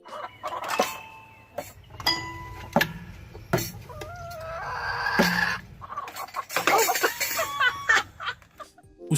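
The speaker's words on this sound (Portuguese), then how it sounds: "Este frango musical tem até mesmo sua banda de aves." A musical chicken with a band of birds, clucking and crowing in uneven bursts mixed with other tonal noises and sharp knocks, loud and close.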